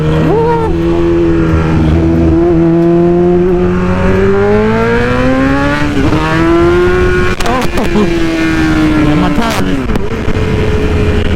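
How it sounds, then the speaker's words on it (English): A 2020 BMW motorcycle does a burnout in a roundabout to warm its cold tires, engine held at a loud steady rev that climbs gradually, with brief sharp bursts near the end, close by and dominating. "It was burning out behind me."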